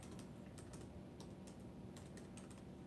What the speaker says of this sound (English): You hear me typing in the background?